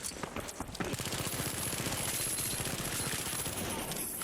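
An SMG in the video game The Finals fires a fast, continuous stream of rounds, a dense rattling burst that carries on steadily for a few seconds at moderate loudness.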